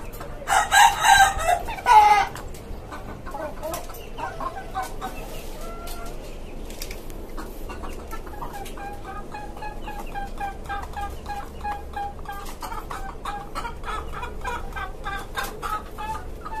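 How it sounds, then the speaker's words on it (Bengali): Chickens on a rooftop farm cluck steadily and close by, with a white rooster's loud crow bursting out early, then a continuous murmur of clucks and calls. "আজকে মূলত আপনার এই সাদা মোরগটাকে আপনার বের করেছিলাম এই মুরগিগুলোকে ব্রিড করানোর জন্য"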